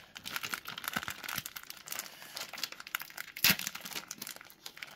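A foil trading-card booster pack from a Yu-Gi-Oh Chronicle 2nd Wave box being torn open, close-up crinkling and tearing in busy bursts with one sharp loud rip near the end.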